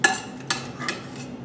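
A spoon scrapes and knocks in a pot while oxtails are pushed into thick bolognese sauce over low heat, three soft close clinks with a quiet bubbling underneath.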